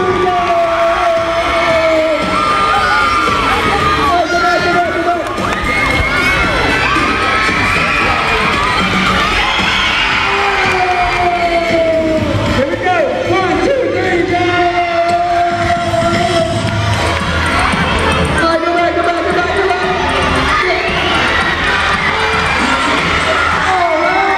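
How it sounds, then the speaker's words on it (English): Children at a school pep rally shout and cheer loudly and continuously as classmates race down and back, a dense, excited crowd din sustained throughout. "You guys cheer them on."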